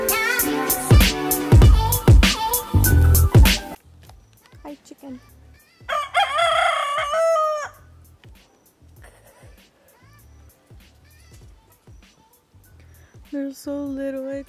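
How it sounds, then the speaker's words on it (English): A rooster crows loudly and close by in rural Mexico, one long drawn-out cock-a-doodle-doo in the middle and another starting at the end, with clucks and a busy noisy stretch at the start. "Chicken."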